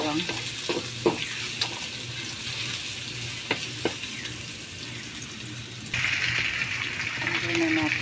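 Garlic frying in a pan for fried rice sizzles steadily up close, with a few sharp spatula taps and a louder hiss late on, while a voice speaks over it.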